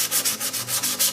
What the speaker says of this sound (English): we're sanding the wood putty that we put on here